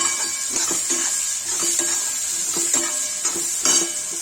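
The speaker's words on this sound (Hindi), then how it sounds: "इसमें प्याज डालेंगे, प्याज और लहसुन तो चला देंगे।" Onion and garlic sizzle steadily in hot oil in a pan while a spoon stirs them in repeated scraping strokes, with a close, continuous frying hiss.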